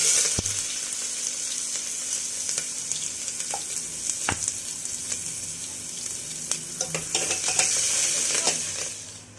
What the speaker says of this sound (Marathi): आपण त्याच्यामध्ये टाकणार आहोत सगळ्यात आधी कांदा